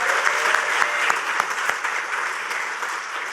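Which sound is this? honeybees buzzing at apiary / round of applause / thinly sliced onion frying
round of applause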